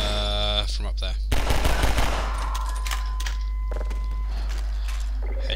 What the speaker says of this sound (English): But we're getting shot up.